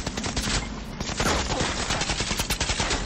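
Rapid automatic gunfire from a weapon in the shooter game Outriders, a dense, loud, continuous burst of shots with no talking.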